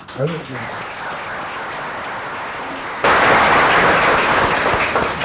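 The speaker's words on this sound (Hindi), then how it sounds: "उनका खैर मकदम कीजिए तालियां बजाकर" Audience applause welcoming a guest at a Premchand story reading evening, a modest patter that swells into a louder, dense wash of clapping halfway through, with a voice audible at the start.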